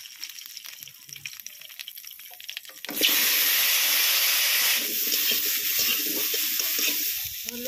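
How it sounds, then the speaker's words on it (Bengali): Potatoes hit hot oil seasoned with black cumin seeds for a Bengali ridge gourd and fish curry. Faint kitchen clatter gives way to a sudden loud sizzle that holds as a dense, steady hiss with light bubbling. "এবার আলুগুলো ভেজে নেব।"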